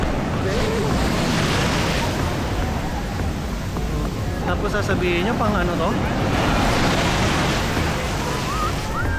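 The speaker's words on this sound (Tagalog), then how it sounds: "Pang surf yung alon na yan." Surf-sized ocean waves roll in at a beach surf spot in La Union, a steady broad wash of surf with wind buffeting the microphone, while someone talks over it throughout.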